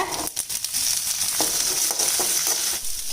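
Steady sizzling of small onions and garlic frying in hot oil, with a few soft clinks and stirring sounds over the continuous crackle.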